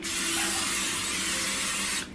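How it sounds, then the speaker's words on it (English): Cooking spray hisses in one steady, continuous burst of about two seconds onto a large skillet, close and loud, then cuts off abruptly. "we're gonna spray our nice big skillet"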